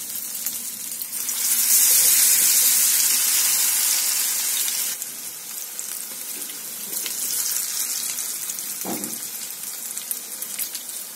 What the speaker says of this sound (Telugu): ఆయిల్ హీట్ అయింది, ఇప్పుడు ఆ ముక్కల్ని ఫ్రై చేసుకుందాం